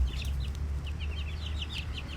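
Red junglefowl chicks cheep and cluck in a steady stream of soft, high peeps, close by and continuous, over a low background rumble.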